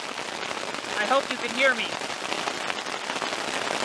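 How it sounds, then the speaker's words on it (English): Hail pelts a camping tent in a steady broadband patter, with someone speaking close by over the drumming of the ice on the fabric. "Hail."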